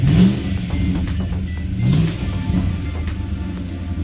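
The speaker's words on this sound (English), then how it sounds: "Motor sounds healthy." A 1999 Holden HSV VT V8 Commodore engine blips its throttle twice, each rev rising and falling back to a steady idle burble, close and moderately loud.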